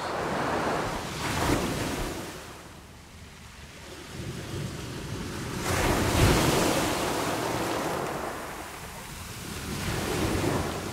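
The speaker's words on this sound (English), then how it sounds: "good demonstration of the varying sounds of the ocean from the same place." Ocean waves surge and wash in from a single shoreline spot, broad rolling swells rising and falling over roughly eleven seconds with gusty wind noise buffeting the microphone, no voices present.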